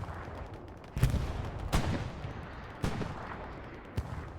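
Gunfire in the online shooter Hell Let Loose, with several sharp, booming shots spaced irregularly over a continuous rumbling battlefield background, no one talking.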